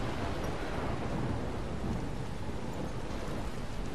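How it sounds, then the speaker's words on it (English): A thunderstorm in the video game Life is Strange, with a heavy, continuous roar of rain and deep rumbling thunder filling the space evenly, with no voices. "I'm trapped in a storm?"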